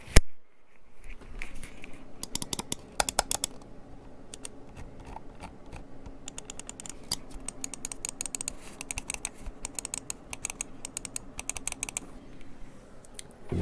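Rapid bursts of sharp, crisp clicks from a Lamzu Thorn computer mouse in a sound test, close and fairly quiet, with clusters of fast clicks separated by brief pauses.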